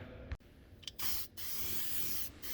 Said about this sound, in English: Spray it all over everything on the floor here.